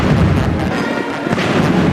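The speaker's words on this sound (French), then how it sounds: "suivi de 21 coups de canon." A 21-gun cannon salute booms at a military parade in Uganda for the re-elected president, heard as dense, loud, continuous rumbling blasts with no gaps.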